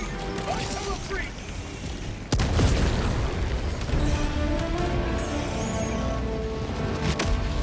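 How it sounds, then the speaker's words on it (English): A frag grenade detonates in Helldivers 2 with a sudden loud boom followed by a rumbling, crackling tail, preceded by mechanical clicks and game ambience, with faint voices in the background. "I'm throwing a frag in there."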